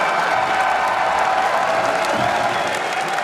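Audience at the 2014 Pokémon World Championships video game finals applauding and cheering, a dense sustained wash of clapping and crowd noise with a commentator's voice faintly underneath.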